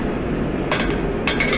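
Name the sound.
hammer blows on hot metal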